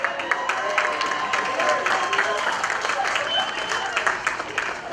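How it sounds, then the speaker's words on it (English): A large crowd at a 2017 high school prom applauds steadily for several seconds, the dense clapping filling the room with a few voices mixed in. "let's have a huge round of applause for our last couple."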